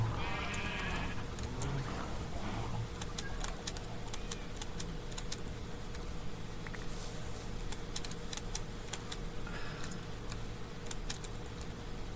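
Sheep bleat in a video game during a pillager raid, the calls mid-distance over a steady ambient game background with scattered clicks, no speech.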